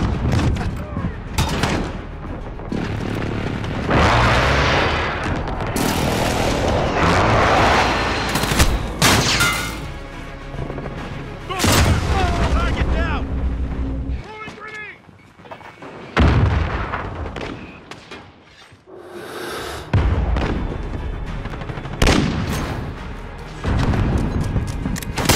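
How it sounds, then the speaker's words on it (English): Precision airstrike explosions in a Call of Duty-style shooter, a run of loud booming blasts and rattling gunfire bursts spread across the stretch, with game voice callouts heard between them. "Enemy precision airstrike."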